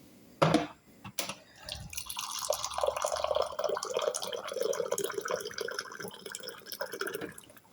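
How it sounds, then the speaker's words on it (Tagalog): Hot water pours steadily into a pot of rice, a continuous splashing trickle after a couple of brief knocks at the start, close and moderately loud. "lalagyan mo siya ng tubig na mainit"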